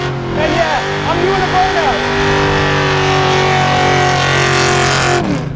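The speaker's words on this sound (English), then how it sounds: "doing a burnout" A junkyard Ford Mustang Foxbody GT doing a burnout: a loud, sustained engine roar with a steady droning tone that holds for about five seconds and then cuts off abruptly, with voices faintly audible over it.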